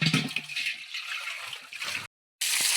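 Water pours from a pipe into a metal pot, a steady rushing, splashing flow that runs continuously, briefly cuts out, then resumes.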